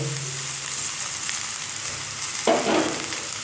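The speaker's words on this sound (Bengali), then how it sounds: "এবার এই যে ভেজে রাখা চালটা এর মধ্যে কিন্তু দিয়ে দেব" Fried rice is tipped into sizzling masala in a pan, giving a steady fry hiss and then a brief louder rush and scrape as the rice drops in and is mixed.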